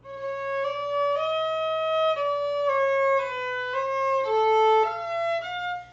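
A violin plays a slow line of sustained, connected notes with a few pitch slides, slightly out of tune, solo and close with no talking.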